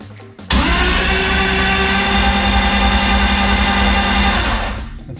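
A BMW E46 engine cranks on its first start, giving a loud, continuous whirring drone that kicks in abruptly and holds steady before easing off at the end.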